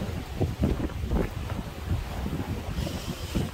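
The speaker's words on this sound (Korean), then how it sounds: "파도가 많이 셉니다." Strong wind buffets the microphone in low rumbling gusts over a constant wash of rough sea and surf breaking near coastal fishing rocks, with no voices.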